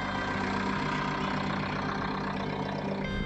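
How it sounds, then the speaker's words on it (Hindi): A Jeep Compass engine idles steadily just after a cold start at -7 degrees in Spiti. The engine gives a loud, continuous, even rumble close by, with no talking. "तो जीप कंपास को कर दिया है कोल्ड स्टार्ट, गाड़ी स्टार्ट हो गई है।"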